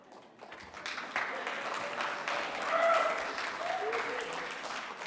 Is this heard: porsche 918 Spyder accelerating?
no